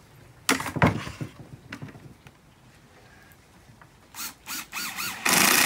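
A power drill drives screws into the corners of wooden beehive super boxes: short, close whirring bursts that rise in pitch, following a few knocks and handling sounds as the woodenware is positioned.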